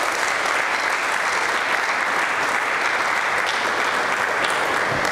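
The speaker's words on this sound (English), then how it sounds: "Can we give them another round of applause?" Sustained audience applause fills a meeting hall, a dense, steady wash of many hands clapping at even loudness for the whole stretch, with no break or talk over it.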